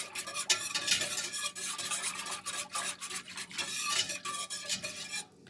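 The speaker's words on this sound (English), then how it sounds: "I'll be whisking this fruit juice, lemon juice, and 6 tablespoons of pectin all together until my pectin is all dissolved" Fruit juice from pomegranates, lemon juice and pectin are whisked together in a pot for jelly, making a steady, scratchy swishing and rattling of the whisk against metal, close and moderately quiet, with no talking.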